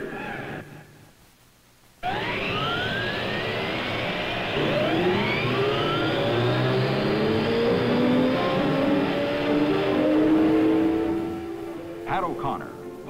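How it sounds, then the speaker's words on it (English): Race car engines at the 1957 Indianapolis 500 fire up together after a brief quiet moment, a loud sustained roar of many motors revving and rising in pitch, close and dense, continuing for several seconds before easing slightly. "Gentlemen, start your engines."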